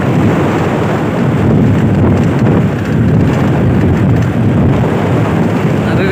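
Strong, gusty wind buffets the microphone beside a village pond, a loud continuous low roar that holds steady throughout with no other sounds standing out.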